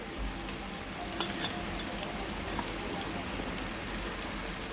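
Onions frying in oil inside a clay pot produce a dense, steady hiss with a low rumble beneath and occasional faint stirring clicks, heard close and fairly quiet with no voices.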